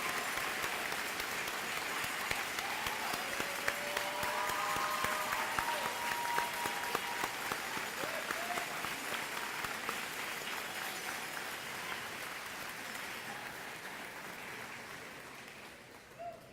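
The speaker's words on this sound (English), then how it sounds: "Please join me in a round of applause to congratulate our honorees on their incredible successes." An audience at the Holmdel High School 2022 graduation applauds award recipients with sustained, even clapping that slowly thins out toward the end.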